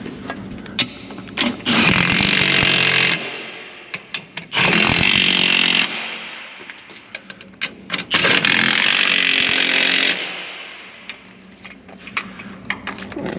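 A power tool, likely an impact driver, tightens the nuts on the rear airbags of a Talbert lowboy trailer in three loud bursts of a few seconds each, with clinks and handling noises between them.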